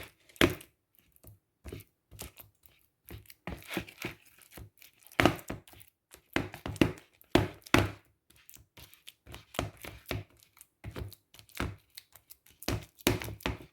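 Ripe bananas are mashed in a bowl, making quiet, irregular squelching taps and soft scraping bursts that come in uneven clusters with short pauses between them.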